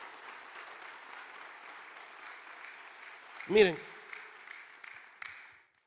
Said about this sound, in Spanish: Dale el aplauso fuerte a Dios,